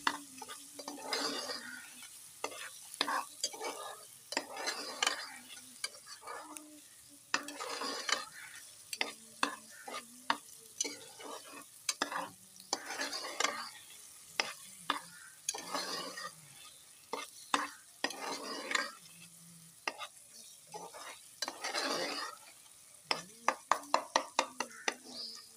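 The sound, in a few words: stirring chicken karahi with a spoon in a frying pan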